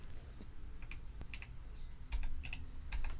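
Small plastic buttons on a PO-35 Speak pocket synthesizer are pressed in a quick pattern, producing faint, close clicky taps in irregular clusters with no musical notes.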